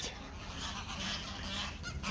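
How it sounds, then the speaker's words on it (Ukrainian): A flock of geese honking repeatedly and close by on Zakynthos, the calls overlapping into a continuous noisy clamour with no pauses. "О, ось вже гусі прилетіли."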